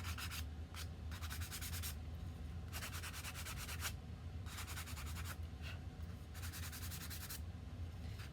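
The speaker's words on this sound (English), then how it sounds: "I think this is a 220 grit sanding block" A 220 grit sanding block rubs the edges of a felt flower shelf sitter in short, quiet back-and-forth bursts, six or so strokes separated by brief pauses, over a low steady background hum.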